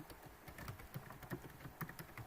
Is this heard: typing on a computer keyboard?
yes